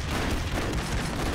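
Gunfire in the 2D action game Broforce: a dense, booming burst of shots and explosions that fills the whole moment, loud and continuous.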